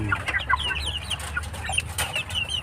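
Aseel and shamo rooster breeds clucking at close range in a home farm setting, with several short calls scattered over a steady low background.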